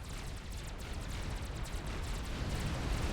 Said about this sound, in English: And artillery taking out the T3 air quarters from Mutalau and the SMD.